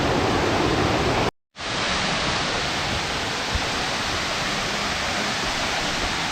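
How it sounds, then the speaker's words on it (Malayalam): Thusharagiri waterfall roars as a loud, dense, steady rush of falling water, briefly cut to silence for a moment before the wash resumes unbroken. "എന്താ വെള്ളച്ചാട്ടം അടിപൊളി."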